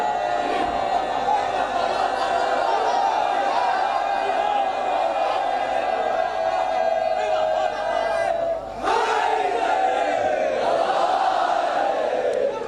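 A large crowd at a religious majlis gathering chants slogans together in loud, sustained unison, a dense roar of voices that falters briefly before surging back.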